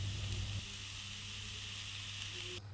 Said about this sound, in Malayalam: പച്ചമണമൊക്കെ മാറിയ സവാള കൂട്ടിലേക്ക് നമ്മൾ പൊടിച്ച് വെച്ചിരിക്കുന്ന ചിക്കൻ കൂടെ ചേർത്ത് കൊടുക്കണം